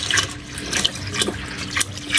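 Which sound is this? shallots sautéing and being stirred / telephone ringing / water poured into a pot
water poured into a pot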